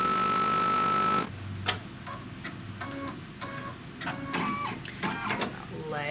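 An embroidery machine stitches a placement line on a quilted mug rug, giving a steady mechanical whir that shifts into a faster rattling run of short ticking stitches, fairly close, with a voice talking over it.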